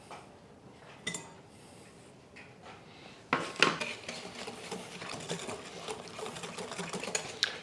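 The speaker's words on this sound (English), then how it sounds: "Then I'm going to whisk in 1 cup or 200 grams of granulated" Whisk beating granulated sugar into lemon loaf cake batter in a bowl: a quiet, sparse start, then from about a third of the way in, brisk close scraping and clinking against the bowl that continues steadily to the end.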